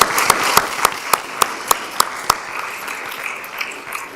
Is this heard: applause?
yes